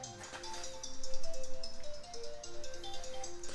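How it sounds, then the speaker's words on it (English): A mobile phone rings in a garage with a bright, repeating melodic tone pattern, fairly faint and steady throughout. "My phone's ringing."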